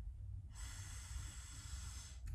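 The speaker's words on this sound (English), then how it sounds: "Take a deep breath in." A single long, steady inhalation or exhalation during a guided breathing moment before an upper-body strength and core workout, a broad airy hiss lasting about two seconds, close and clear, with no talking.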